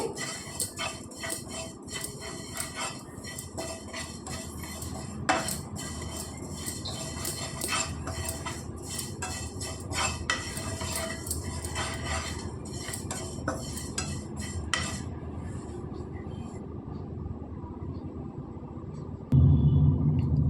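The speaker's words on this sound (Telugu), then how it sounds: "ఒక టేబుల్ స్పూన్ నువ్వులు వేసుకోవాలండి దోరగా వేయించేసుకోవాలి" Sesame seeds dry-roast in a pan with a light crackle while a spatula scrapes and clinks against the metal in quick, irregular strokes close by, ending in a brief low rumble.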